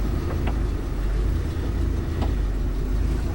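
A car engine runs at a steady low rumble as the vehicle is put in gear, with a couple of faint clicks over the constant hum and no talking.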